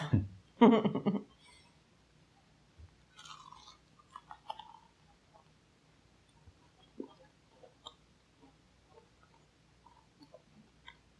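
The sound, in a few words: biting and chewing a crunchy Korean corn dog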